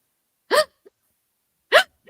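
Two sharp hiccups with a gulping catch, each a short abrupt burst about a second apart, close and loud, each followed by a tiny soft after-sound in an otherwise quiet room.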